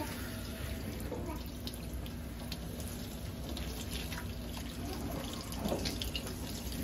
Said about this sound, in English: They got that water on.